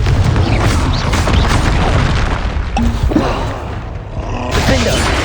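Confringo blasting spell in Hogwarts Legacy: loud, dense booming bursts and crackling impacts fill the clip, with a brief lull before the blasts return, over constant game rumble.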